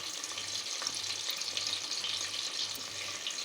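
Sliced onions, coriander and curry leaves frying in hot oil for Hyderabadi chicken dum biryani, a soft continuous bubbling sizzle, fairly quiet and steady with no talk.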